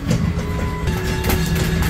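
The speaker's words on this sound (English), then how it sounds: "This is the end of the train ride." Tourist road train rolling through Frigiliana, Spain, with a steady engine rumble and rattling carriages close by and no one talking.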